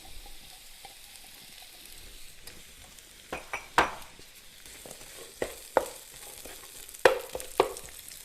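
Onion frying in cooking oil in a wok for chop suey, a low soft sizzle broken by several sharp scraping and stirring clinks of a utensil against the pan.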